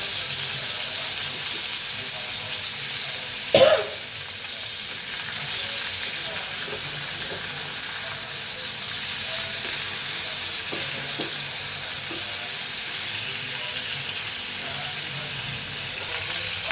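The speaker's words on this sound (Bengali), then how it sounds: "এই পাশটা আমি ৩ মিনিট ভেজে ১ টেবিল চামচ বাটার বা মাখন দিয়ে এপাশ ওপাশ করে নামিয়ে ফেলছি" Chicken steak pieces sizzle in a hot pan with a constant close hiss, broken once early by a sharp clatter of the pan or utensil, then settling back into steady frying.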